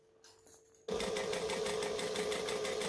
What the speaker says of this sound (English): And backstitch at the end.